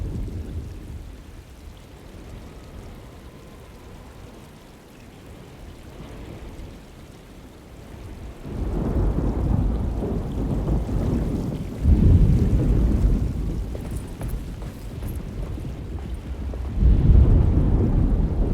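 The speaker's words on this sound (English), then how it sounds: "Just keeping an eye out for the storm. Radio says it could be a wild one." A thunderstorm in Alone in the Dark: steady rain hisses throughout while deep rumbles of thunder roll in and swell several times, loud and heavy.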